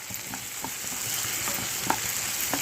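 Tomatoes, onions and green chillies frying in a pan for a broad bean and tomato curry give a steady, close sizzle throughout, with a few soft stirring clicks and scrapes and no voices.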